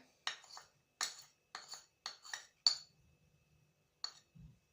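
A whisk or utensil strikes a bowl in quick clinking bursts while a curd cheese mixture with starch is beaten, several short sharp taps spaced across a few seconds, close and fairly quiet.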